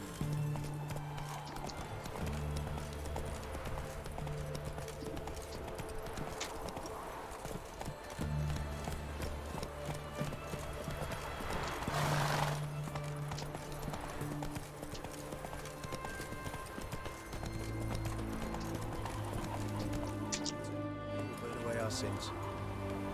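A horse gallops in The Witcher 3 with rhythmic clip-clop hoofbeats and brief pauses between runs, under game music and ambience. Voices speak over parts of it.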